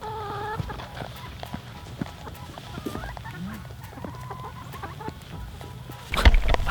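A hen in a snowy backyard flock clucks in soft, repeated calls, with other chickens murmuring around her and a louder rustling burst near the end as she is handled and picked up.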